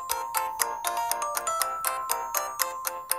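Phone ringtone in a mobile prank-dodging puzzle game, a repeating electronic melody of bright pulsed tones that rings steadily throughout at moderate loudness with no voices.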